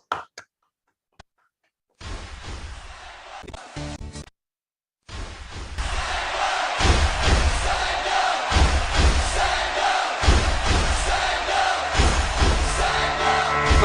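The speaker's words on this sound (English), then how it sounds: "Please give a huge round of applause to our general evaluator," A Toastmasters speakathon crowd breaks into cheering and whooping after a few brief sharp bursts and pauses. The noise then settles into sustained loud, lively applause and shouts lasting nearly ten seconds.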